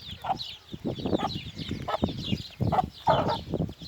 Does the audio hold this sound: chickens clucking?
yes